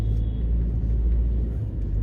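A car driving through city traffic in Paterson, New Jersey, heard as a continuous deep rumble from inside the vehicle, with no voices.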